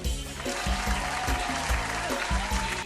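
Synthetic applause loops under repeating electronic tones from the slot game Egypt's Book of Mystery, bright and steady, a looping jingle pulsing beneath the clapping.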